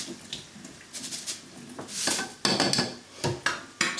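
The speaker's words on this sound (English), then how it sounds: "1 cup of rice, just give it a wash" A cup of rice being washed in water in a pot or bowl, with close wet swishing, splashes and clinks of grains and vessel, in irregular bursts with short pauses.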